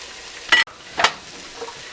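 Garlic and onions in a pan over a low flame for Puerto Rican salami soup, stirred in two short scraping bursts about half a second apart over a faint background.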